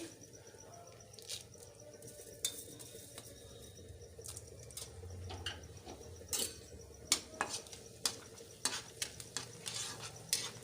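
Dried red chillies, fenugreek seeds and cumin hit hot oil in a pan, giving a faint, steady crackling sizzle broken by scattered sharp ticks and scrapes of stirring, with no one talking.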